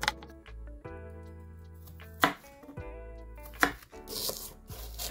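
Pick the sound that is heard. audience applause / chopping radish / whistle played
chopping radish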